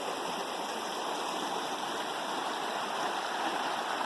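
A river after a wet spring and summer, on a hike to Isinglass Falls, flowing in a steady, close, full rush of water with no voices.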